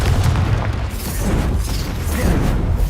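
Confringo spell explosion in Hogwarts Legacy, a loud, close booming blast with a rumbling, crackling tail that rolls on for several seconds without a break.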